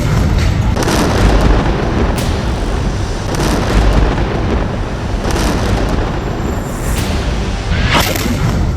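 Heavy explosions from Israeli military bombardment of Gaza, a dense, loud rumbling roar with repeated booming bursts every second or two and no talking.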